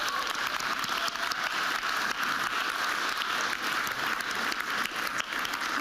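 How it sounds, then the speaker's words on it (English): A group gives a sustained round of applause at a Y2Gether Sustainable Planet session, steady dense clapping that carries on without a break for several seconds, with no voices over it. "Everyone, give yourselves a round of applause."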